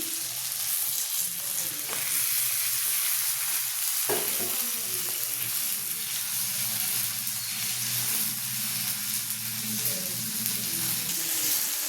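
Eggplant and potato fry with hilsa fish heads in a pan, a loud continuous sizzle filling the whole stretch with a few stirring knocks, close and without talk.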